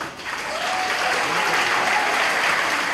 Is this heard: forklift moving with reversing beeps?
no